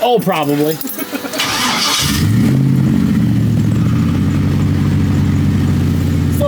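An LS-swapped Ford Galaxie engine cranks and catches at about two seconds, then settles into a steady, loud, rumbling idle close by, with a person speaking briefly over the start.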